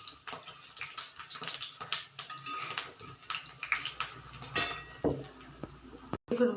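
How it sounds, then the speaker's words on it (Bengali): Eggplant fritters (beguni) fry in hot oil with a soft, faint bubbling sizzle, broken by frequent close clinks and scrapes of a metal utensil against the pan. "এই দেখুন বেগনিটা হচ্ছে, তেলে দিয়ে দিচ্ছি, সব ফুলে এসছে।"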